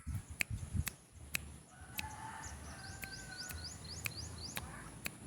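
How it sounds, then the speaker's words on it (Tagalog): A bantam chicken gives a crowing call close by, with sharp clicks and tapping near the start and a faint, steady background hum. "Ito yung bantam na manok or unano na manok."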